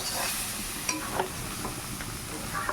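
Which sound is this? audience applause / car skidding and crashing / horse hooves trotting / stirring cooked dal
stirring cooked dal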